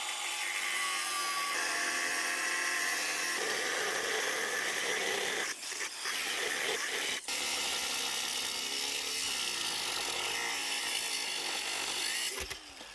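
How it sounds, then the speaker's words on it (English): Cutting wheel slicing through a steel spring hanger on a steam locomotive frame, a loud continuous high-pitched grinding whine lasting throughout, with brief dips and sharp scraping bursts as the wheel shifts in the cut. "I brought out the cutting wheel."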